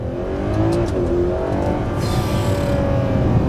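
A Ferrari 12Cilindri V12 supercar accelerates hard on a wet road, its engine a loud, continuous roar that climbs in pitch with a brief shift midway, heard up close without voices.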